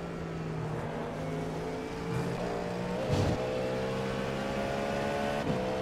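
IMSA race car engines in iRacing at Daytona International Speedway, a steady high-revving engine whine with harmonics, brief shifts and a rising swell midway, continuous and fairly loud without talk.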